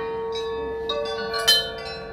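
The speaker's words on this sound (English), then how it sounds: "Do you see the bell just there? I'd like you to ring it for me one time only." A small bell rings once inside a wand shop attraction at Universal Studios, its clear tone lingering and fading over a soft sustained background chord, close and without speech.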